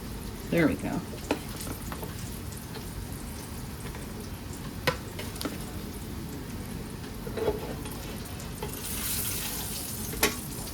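Sausage frying in a skillet gives a steady low sizzle under kitchen clatter, with a few sharp clinks and scrapes of a utensil against the pan.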